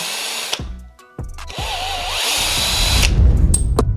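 A power tool, most likely a drill or driver, works on the handlebar bolts of an Ausom L1 electric scooter with short bursts, then whirs in one long close run.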